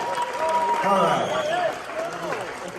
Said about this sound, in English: give them a round of applause. Fuck it, let's make some noise